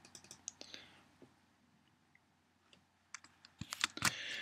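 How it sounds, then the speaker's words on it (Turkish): Computer keyboard being typed on quietly, with a handful of soft clicks and a burst of key presses including the Tab key near the end, close but faint over low room noise. "Görseller açıldığı zaman klavyeden Tab tuşuna basıyorum."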